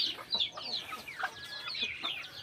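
Native backyard chickens clucking in short, repeated bursts, fairly close and moderately loud, with some quieter background sounds.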